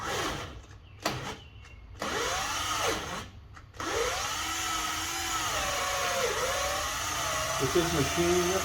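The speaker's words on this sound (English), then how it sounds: "these built drill bits have a little bit of tough time going through there" A power drill whines steadily as it bores through marine-grade plywood on an inflatable boat transom, its pitch wavering under load, after a few short bursts and pauses at the start.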